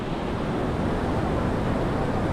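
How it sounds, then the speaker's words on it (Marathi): The flooded Godavari river at Nashik rushes past in a dense, steady roar of churning water, loud and unbroken, mixed with some wind. "गंगेला पूर आलेला आहे पूर्ण"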